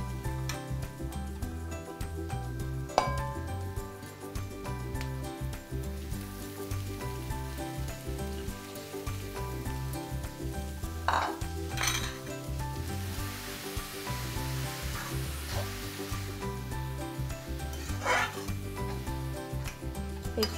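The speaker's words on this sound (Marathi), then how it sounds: "आता आपण यात बारीक चिरलेला पालक घालूया" Finely chopped spinach cooks with onion in a pan, giving a soft, low sizzle and rustle throughout with a few scattered sharp ticks and scrapes of a utensil against the pan, and no voices.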